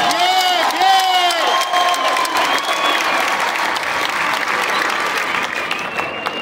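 Crowd applause and cheering fill a charro arena (lienzo charro) in Ciudad Juárez, a dense steady roar of clapping with whistles and voices over it, loud and sustained throughout.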